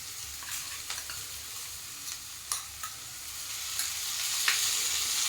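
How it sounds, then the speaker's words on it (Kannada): Spices frying in ghee for ghee rice make a soft, steady sizzle with occasional light spoon clicks and scrapes against the pan, growing slightly louder toward the end. "ಸ್ವಲ್ಪ ಆಯಿಲಲ್ಲೇ ಸ್ವಲ್ಪ ಚೆನ್ನಾಗಿ ಫ್ರೈ ಆಗಬೇಕು. ತುಪ್ಪದಲ್ಲಿ."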